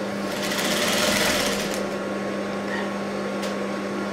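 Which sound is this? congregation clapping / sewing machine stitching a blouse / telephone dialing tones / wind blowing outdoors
sewing machine stitching a blouse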